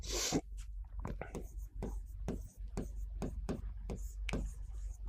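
A pen scratches across paper in a series of short, rhythmic strokes during a lecture on Mughal-era economics, each stroke close and distinct with quiet pauses between, and no speech over it.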